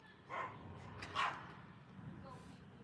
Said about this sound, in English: My neighbor's putting their dogs out right now. Did you hear them?